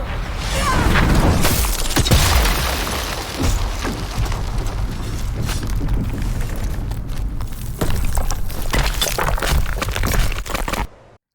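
An explosion effect in a Runeterra video game scene roars loudly with crackling and rumbling debris, sustained for several seconds before cutting off abruptly.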